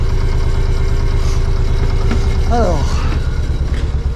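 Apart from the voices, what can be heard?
boat engine running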